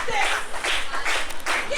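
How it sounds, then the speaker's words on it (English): A wrestling crowd at a Riot Pro Wrestling match cheers and claps in steady bursts, loud and close, mixed with voices. "rallying the fans behind him as the fans cheer him on"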